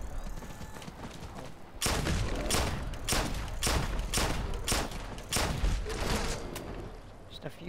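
Pistol shots in a video game, a series of about nine sharp, evenly spaced loud cracks at a steady rhythm, with no talk over them.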